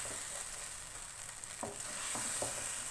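Fried, ground onion paste being stirred into chicken salan in a sizzling pan, a steady frying hiss with a few short scraping strokes, close and fairly quiet, no voices.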